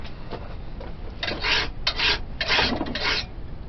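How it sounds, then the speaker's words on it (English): A forged colonial patch knife clamped in a vise on a wooden block is worked with a file in rasping strokes, irregular close bursts that grow louder midway, with no voices. "I'll demonstrate the filing here for you a little while and show you what that's like"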